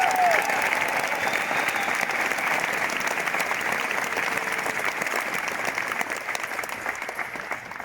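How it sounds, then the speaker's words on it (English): A large audience claps after an event in Budapest, a dense, continuous wash of applause that fills the whole stretch and eases off only slightly toward the end. "massive round of applause for Ibiza for putting up an incredible event"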